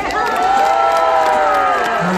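A festival crowd at a pumba performance at the Eumseong festival gives a loud, sustained collective shout and cheer, with some clapping mixed in. The sound is close and continuous for about two seconds.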